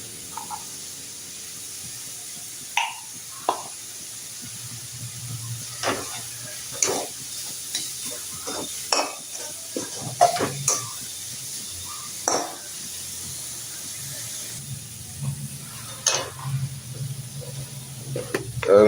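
A coriander, cumin and cinnamon paste goes into a pan for cauliflower paratha filling, with soft intermittent sizzling and scattered clinks and scrapes of stirring throughout, fairly quiet and close.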